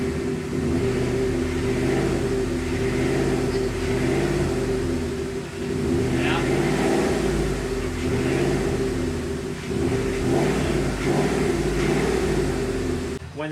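A 2011 Ford Mustang GT V8, a wrecked car under rebuild, runs with a continuous rough mechanical drone and rhythmic pulsing rattle throughout, loud and close with slight swells in revs and no talking.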